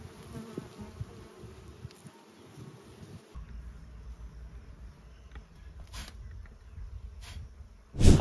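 Bees from two hives of the Buqiya (البوجية) variety buzz close by in a steady droning hum at low volume, with a few brief louder bumps near the end.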